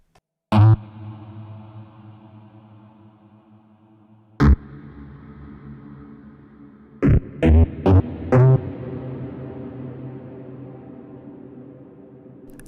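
A Hologram Electronics Microcosm pedal on its big, long ambient cavern reverb: a few struck notes, then a quick cluster of hits, each swelling into a dense, sustained wash that hangs and slowly decays between them.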